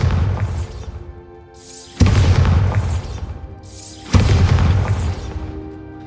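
Three heavy, booming blasts from the Bombarda spell in the video game Hogwarts Legacy go off at even intervals, each a loud crash followed by a rumbling decay.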